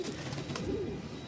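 Pigeons at a Bangladeshi pigeon seller's stall give low, soft cooing calls that rise and fall across a steady faint background, with no talking.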